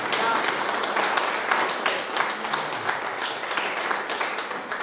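Audience applause at a symposium for the Romanian Cașin Monastery during a commune celebration, a steady wash of many hands clapping with a few voices murmuring underneath throughout.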